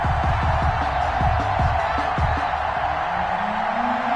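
Stadium crowd noise in Madden 21 during a Houston Texans versus Seattle Seahawks game, a steady dense roar with scattered whoops and cheers running throughout the clip at an even, fairly loud level.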